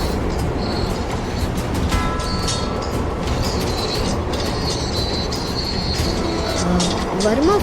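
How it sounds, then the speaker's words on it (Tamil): Metro train construction noise fills the background of a phone call recording: a dense, steady rumble of rail traffic with high metallic squeals and whines, with muffled voices running through it. "அது மட்டும் இல்ல, மெட்ரோ ட்ரெயின் கன்ஸ்ட்ரக்ஷன் சத்தமும் கேக்குது"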